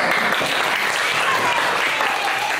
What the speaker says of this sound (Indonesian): tepuk tangan buat Rara